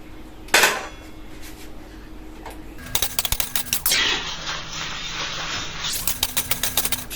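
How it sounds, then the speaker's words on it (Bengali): Whole panch phoron spices with fenugreek dry-roasted and stirred in an empty wok: a sharp early scrape, then bursts of rapid rattling and clattering as the seeds are tossed, close and fairly loud, without talk. "তো আগে মশলাগুলো আগে খালি কড়াই নেড়ে নেই।"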